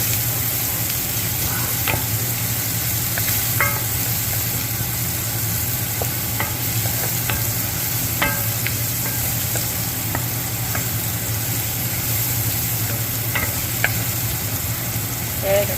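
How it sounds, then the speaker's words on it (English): Ginger and garlic fry in a pan for kheema while a utensil stirs them, giving a steady sizzle with scattered light scrapes and clicks over a constant low hum. "Just stir it a bit so it starts to have a fragrance."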